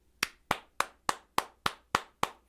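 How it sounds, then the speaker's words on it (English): Slow, evenly spaced hand claps, about nine sharp, close-up smacks at a steady rhythm with silence between them, sounding more like one person clapping deliberately than a full audience. "A round of applause."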